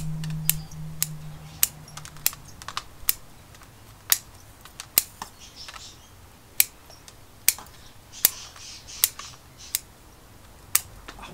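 Sharp scissors snipping the roots of a flowering quince (japonica) bonsai during repotting: a dozen crisp, close clicks spaced about a second apart over quiet background.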